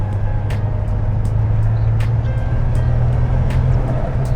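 Manual Ford Falcon BA Mk2 XR6 Turbo engine pulling steadily on boost, a loud, constant drone heard from inside the car with occasional faint clicks over the top.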